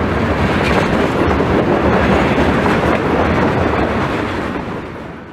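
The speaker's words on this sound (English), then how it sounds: "The final cars rolled through the crossing, ending an awesome day of train chasing." Loud, continuous rumble and clatter of freight train cars rolling past close by through a level crossing in eastern Pennsylvania, steady throughout before easing off slightly at the end.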